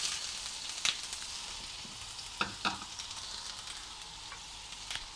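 Crushed garlic and ginger frying in hot oil in a wok over high heat, a steady close sizzle with occasional sharper crackles and stirring scrapes, no voices.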